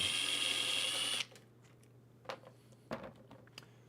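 A power drill whirs at high speed for about a second and then cuts off, followed by a few sparse knocks and clicks as it is set down in a quiet room.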